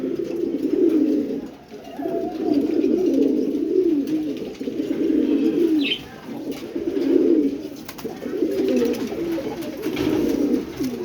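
A pair of black-speckled pigeons, a female and a male, coo steadily in repeated low rolling phrases, close and clear, with no talk over them.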